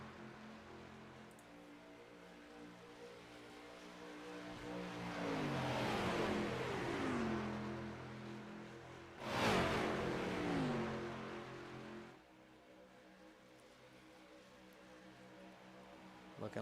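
Street stock race cars roar past on a racing track in two distinct passes, engines rising and falling in pitch as they sweep by, then a quieter distant engine drone.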